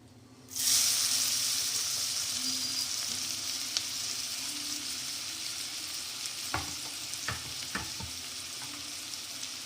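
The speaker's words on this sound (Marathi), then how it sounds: "तर आता आपलं तेल गरम झालेलं आहे। आता सर्वप्रथम आपण कांदा टाकूया।" Onion dropped into hot oil bursts into a sudden loud sizzle, then settles into a steady close frying hiss, with a few sharp clicks from stirring toward the end.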